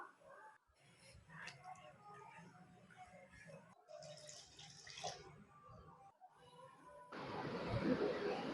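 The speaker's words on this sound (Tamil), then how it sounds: "இதில் ஒன்றரை டம்ளர் தண்ணி ஊற்றிக்கலாம்" Water splashes and pours steadily into a pan of egg masala curry near the end, following quieter kitchen clatter and faint background sounds.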